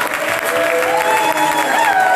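A church congregation applauding and acclaiming: steady, dense clapping from a crowd fills the room, with voices calling out and cheering mixed into the applause.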